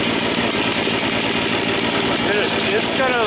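Harbor Freight Predator 6.5HP small gas engine mounted on a Sears Roto-Spader, loud and close with a steady rapid chugging throughout, while someone talks over it.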